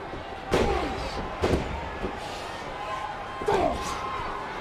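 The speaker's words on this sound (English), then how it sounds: "Check out this cage door being slammed into the head." A steel cage door slammed into a wrestler's head during a WWE steel cage championship match, with several sharp metallic bangs over crowd noise and commentary.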